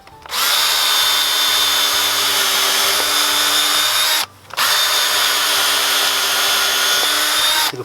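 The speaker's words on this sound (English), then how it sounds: "Let's drill a hole." A power drill bores a hole for screws while a rain-catchment setup is being expanded at an allotment polytunnel. Two loud, sustained bursts of whirring run close by, with a short pause between them.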